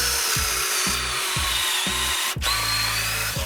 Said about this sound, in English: Now that the pocket holes are drilled